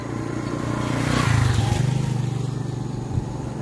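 A motorcycle engine near a rice field rumbles steadily, swelling in a brief rev then settling back to a low idle, loud and close with no talking.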